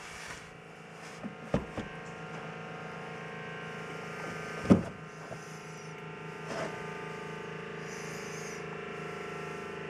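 The hydraulic pump of a VW Lupo or Audi A2 3L runs to build pressure, giving a steady electric hum and buzz with a few faint clicks and knocks over it.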